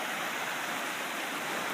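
River rapids rush in a steady, dense roar of flowing water, close and constant with no pauses, in a big river where a gold sluice box sits among the rapids.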